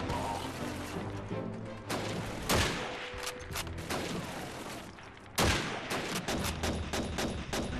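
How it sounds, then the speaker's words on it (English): Sustained automatic gunfire from an MG42 machine gun in the Call of Duty 2 World War II shooter, with dense rattling bursts, sharp louder blasts near two and five seconds, and a busy battle din throughout. "Another MG42 somewhere else."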